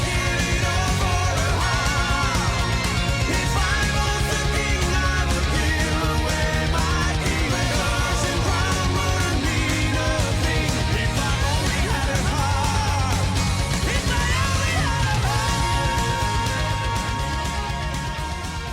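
A power metal song plays loud and dense throughout, with driving drums, distorted guitars and keyboards, fading slightly at the end.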